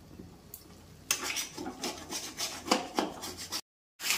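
A spoon stirs and scrapes tomato paste masala in a kadai pan while it is fried for kadai chicken, a run of soft rubbing scrapes with brief clinks, close and steady, then a sudden drop to silence before the scraping resumes.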